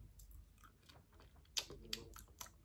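Hard blue pieces of bubble-gum flavoured candy are chewed close to the mic. Soft, irregular crunches and bites are punctuated by a few sharper cracks, with no talk.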